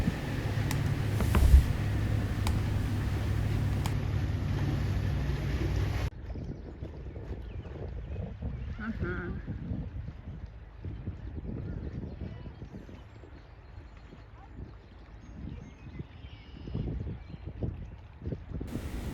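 A boat cruises on the Hudson River toward Kingston, New York, its steady engine and water rumble loud for the first few seconds, then settling into a softer, continuous wash with wind buffeting the microphone.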